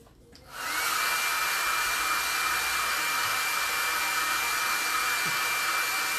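Hair dryer blowing on a freshly painted remote control holder with washed patina finish, switching on after a brief click and then roaring steadily and loudly up close, with no talking.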